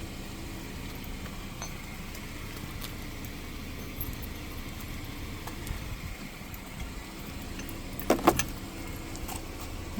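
Metal tow hitch pins on a car towed behind an RV are slid back into place, a few faint metallic clinks and jangles over low background hum, with a louder clink near the end.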